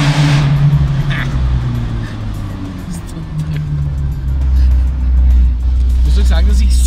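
Abarth 124 Spider sports car accelerating hard, a loud sustained engine drone that swells toward the end, heard from inside the cabin with someone talking over it.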